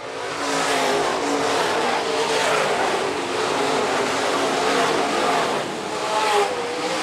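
IMCA modified race cars on a dirt oval at Phillips County Raceway in a feature event roar past continuously, a dense wall of engine noise with rising and falling revs and no talk.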